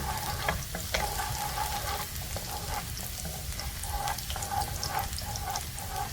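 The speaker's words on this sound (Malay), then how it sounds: "Panaskan sedikit minyak dalam kuali. Kemudian tumis bawang putih hingga naik bau dan layu sedikit." Garlic sautés in a little hot oil in a wok, giving a steady close sizzle with occasional scraping from stirring and no talking.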